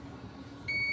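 A multimeter's continuity buzzer sounds while diodes are tested on a TV main board's primary power supply. The steady, fairly loud electronic beep starts near the end of a short stretch of faint background hum.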